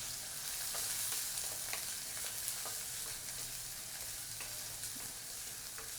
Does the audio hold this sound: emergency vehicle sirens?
no